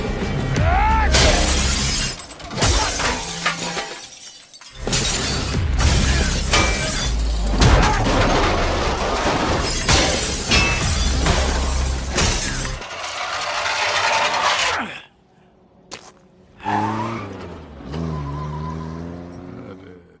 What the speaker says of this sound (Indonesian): membalasnya dengan menghancurkan mobilnya juga